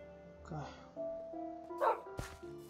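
A dog in Minecraft gives a few short barks and whimpers, fairly quiet, with sparse game tones around them and no talk.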